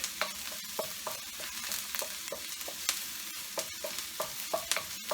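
Salt and pepper fish and onions fry in a wok over high heat, a soft sizzle broken by regular clanks and scrapes of stirring that repeat in a brisk rhythm.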